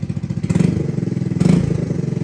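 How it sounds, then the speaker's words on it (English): Motorcycle engine idling with a steady low rumble, blipped twice by quick throttle revs that swell and fall back, close and fairly loud with no talk. "We no longer have a really high idle and we have really good throttle response."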